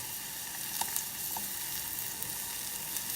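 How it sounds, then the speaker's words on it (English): Onions sizzling in a hot saucepan, a steady, even frying hiss that holds throughout with a few faint ticks and pops, fairly quiet and close, with no talking. "it's already hot, so I'm going to drop my onions in there"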